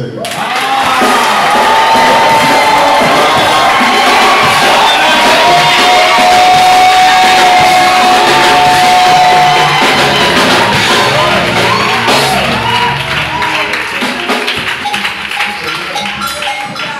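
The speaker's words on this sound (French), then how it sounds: "applaudissez pour le Seigneur." A church congregation at an ordination and consecration ceremony claps and cheers loudly and continuously, a dense wash of crowd noise with shouts and whoops running throughout.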